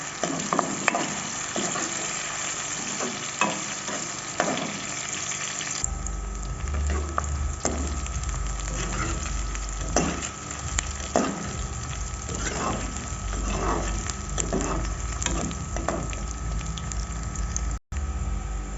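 Onions frying lightly golden in a pan as part of a mixed winter vegetable dish, with a continuous close sizzle and bubbling, steady throughout with occasional stirring scrapes.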